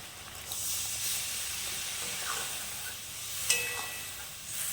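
Water poured into a hot pan of sour mangoes and sugar sends up a steady, loud hiss and sizzle that runs unbroken through the whole moment, with a brief sharp clink near the end.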